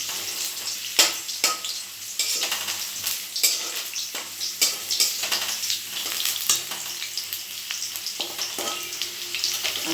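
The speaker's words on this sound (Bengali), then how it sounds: "এই মশলাগুলো দিয়ে আমি কষাবো" Chili, turmeric and coriander powders sautéed in a pan for kofta curry, a close sizzle broken by repeated scraping stirs at an uneven rhythm, with no talking.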